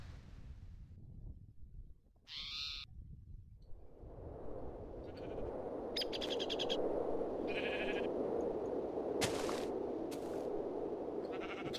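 Sheep bleating in Minecraft with the Tekkit modpack: several short, separate bleats spread over a steady ambient game noise bed, fairly clear and without talk.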